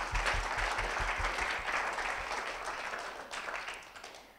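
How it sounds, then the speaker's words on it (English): Audience applauding the judges of an innovation fellowship pitch competition in Indonesia, a dense steady clapping that swells early and slowly thins toward the end, with a few low thumps near the microphone. "So let's give a round of applause to our judges."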